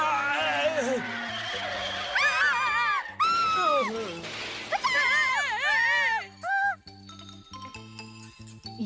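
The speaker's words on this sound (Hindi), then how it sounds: "ये कौन चिल्ला रहा है?" Shrill cartoon screaming from the Ninja Hattori animated series, rising and falling wails over a music bed with skidding and jingling effects, loud and continuous throughout.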